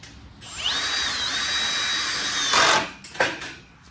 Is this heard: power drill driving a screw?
yes